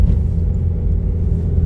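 An automatic car labors up a steep hillside road, its engine and road noise a steady, loud low rumble close by with no one talking.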